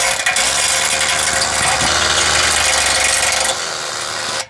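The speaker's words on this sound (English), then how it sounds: "now I've got my Bosch cordless drill, and with a 12mm masonry bit" A Bosch cordless drill fitted with a 12mm masonry bit bores into masonry, giving a loud, steady grinding whir with rattling mechanical chatter that holds for about four seconds, then eases before stopping.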